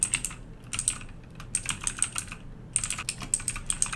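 Code comments are typed on a computer keyboard: quick, close bursts of crisp keystrokes in irregular clusters with short pauses, alone in a quiet room.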